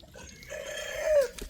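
A single rooster crows briefly from a flock of about two dozen roosters, one drawn-out call at moderate distance with a little background noise around it.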